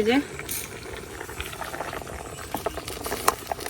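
Potatoes boiling in a pot of water, a soft continuous bubbling and patter with faint rattles, partly under a voice talking.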